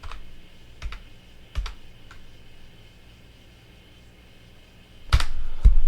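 A computer keyboard gets a few scattered key presses, sharp close clicks with pauses between them, no talk.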